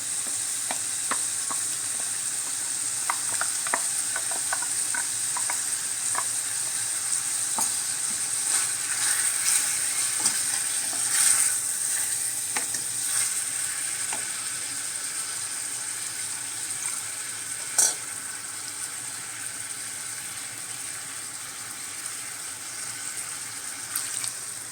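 Chicken with ground masala sizzles and sautés in a pan, a steady close hiss broken by scraping stirs and occasional sharper spatters, with no talking.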